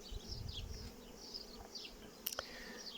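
Carnica Prima honeybees flying at the hive, a soft buzzing swarm with individual bees droning past close by in rising and falling passes, plus a couple of brief sharper knocks near the end.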